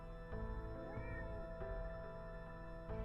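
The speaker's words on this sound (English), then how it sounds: "You're meowing at me like you want something." A pet cat meows insistently indoors while wanting up on a chair, a faint wavering call over steady background hum, rising briefly near the middle of the short stretch.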